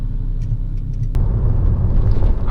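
A turbocharged single-cam Honda car engine while driving, a loud low rumble that swells and thickens partway through as the engine pulls, heard from inside the car with no talk.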